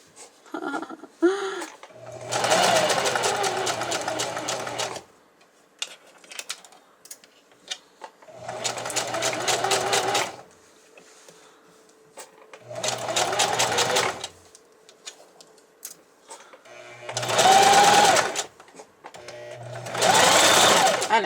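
A home sewing machine runs in several bursts of a few seconds each, stitching a back stitch and then sewing straight down, with short quiet pauses between runs and brief handling noises.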